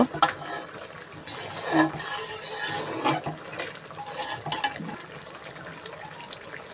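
Chicken curry in a pot is stirred and scraped along the sides with a spoon, giving irregular clinks, scrapes and wet bubbling sounds, fairly close with uneven loudness.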